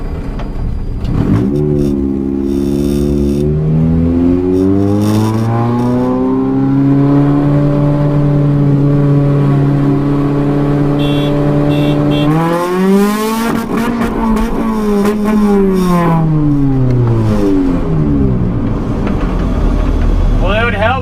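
Car with aftermarket cams accelerates hard in first gear from about 20, the engine note climbing and holding loud, then a brief break before it revs up again, with some faint tire noise.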